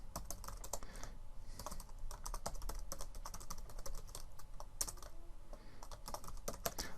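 Code is typed on a computer keyboard in a steady, close patter of key clicks, with brief pauses and sharper taps scattered through, and no voices.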